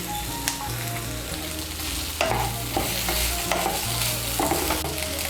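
Chopped tomato, onion, cashews and green chilli frying in a pan at home while being stirred, a steady close sizzle with intermittent scraping stirs and occasional clinks.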